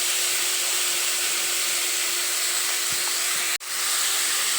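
Tomatoes with turmeric sizzle in a hot pan for a chicken gravy, a steady close hiss with a brief dip near the end, no talking.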